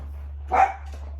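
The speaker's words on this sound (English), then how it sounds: "they're all barking, running around, so there is somebody here" A dog gives a single short, mid-distance bark inside a home, over a steady low electrical hum, with no talking.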